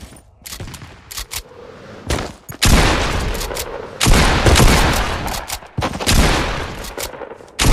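Gunfire in a shooter video game, loud rapid bursts of shots in dense volleys separated by brief pauses, close and continuous throughout.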